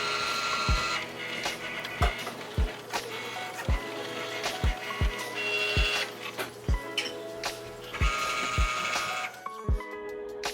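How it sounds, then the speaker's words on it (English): A Cricut cutting machine cutting out onesie-shaped birthday invitations, a whirring mechanical hum with repeated low thumps as the carriage moves, rising and falling in short bursts. "let's have the Cricut cut these out."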